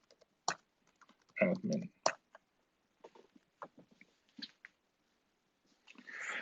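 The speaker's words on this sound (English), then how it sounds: "So I'm typing in admin." Typing on a computer keyboard while logging into a Linksys WRT54G router over a UART serial connection, with clusters of sharp key clicks in bursts and a little nearby talk.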